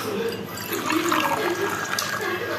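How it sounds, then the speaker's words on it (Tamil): Water is poured into a steel tumbler in a home kitchen, a steady splashing, gurgling stream close by that runs continuously for a few seconds. "இப்போ நம்ம வந்து டம்ளர் எடுத்துக்கிட்டு தண்ணி ஊற்றிக்கலாம்."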